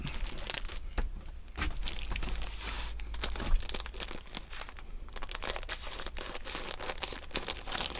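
Fabric packaging being cut open, a steady close crinkling and crunching of plastic wrap with sharp tearing snips throughout, no talking.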